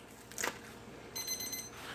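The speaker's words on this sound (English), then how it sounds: "That's my timer, so I can check everything." A kitchen timer alarm beeps faintly in a home kitchen while a hamburger is being made, a short burst of high electronic chirps under quiet room noise.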